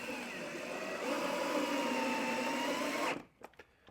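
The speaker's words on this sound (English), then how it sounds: "and just run the screw in" A power driver runs a screw in to mount a portable 40 amp J1772 EV charger, a loud continuous whirring drone for about three seconds that cuts off sharply, followed by a few light handling taps.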